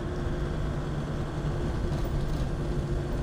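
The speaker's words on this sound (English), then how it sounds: "It goes uphill in third gear." Steady, loud engine drone of a 1999 Land Rover Defender 110 TD5 diesel climbing uphill in third gear, a constant low rumble with even road noise and no talking.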